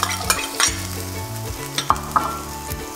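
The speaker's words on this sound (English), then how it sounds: "Now we pop in a little bit more oil and pop in our onion" Onion sizzling in hot oil in a pan, a steady close fry broken by sharp clicks and knocks of stirring.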